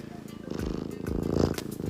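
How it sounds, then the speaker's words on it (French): A cat purring loudly up close, a steady rhythmic rumble that swells in the second half, with speech-like sounds mixed over it. "Regardez comment il ronronne fort."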